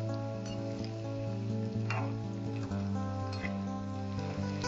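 Banana peel pakora batter frying in hot oil, a steady close sizzle that runs the whole time under a sustained tonal backing.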